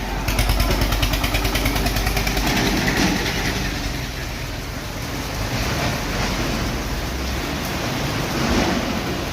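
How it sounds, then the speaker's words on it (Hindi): Heavy rain pours down during a power cut, a dense, loud, continuous roar of falling water with no pauses and no voices. "बारिश तेज हो गई है"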